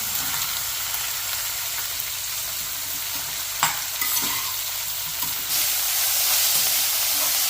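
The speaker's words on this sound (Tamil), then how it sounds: "பாகக்காய் ஃப்ரை பண்ணிக்கலாங்க" Bitter gourd frying in a pan with tomato, a loud continuous sizzle and hiss with scraping stirs of a spatula, growing slightly louder near the end, no voices.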